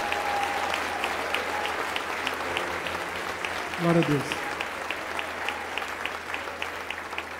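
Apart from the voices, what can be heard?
congregation applauding in church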